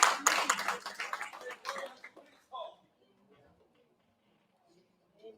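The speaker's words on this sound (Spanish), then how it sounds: "Den un aplauso al Señor si usted lo cree." Church congregation breaks into brisk applause for the Lord, a loud burst of many hands that lasts about two seconds before fading quickly into near silence with a few faint stray sounds.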